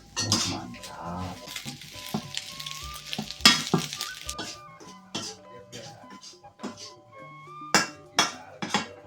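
Nasi goreng being stir-fried with egg in a pan, with steady sizzling under sharp metallic scrapes and clanks of a spatula against the pan, fairly close.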